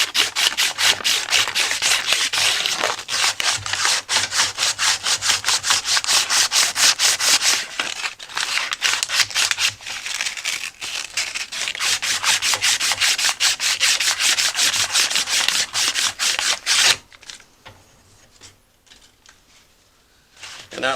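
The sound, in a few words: sanding a lawnmower drive wheel part with sandpaper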